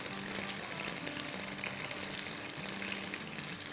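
Chicken pieces fry in a hot pan with a steady, close sizzle and crackle that holds evenly throughout, with no talking.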